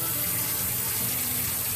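Hot water runs steadily from a tap as it collects for washing sheep fleece, a constant loud rushing splash with no pauses.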